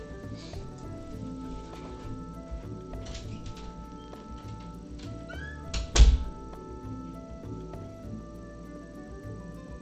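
A kitten named Momo meows a few times amid steady indoor background noise, with one louder close thump partway through.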